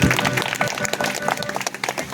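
A congregation at a church service claps hands together, a brief burst of dense clapping from many people, fairly loud and close.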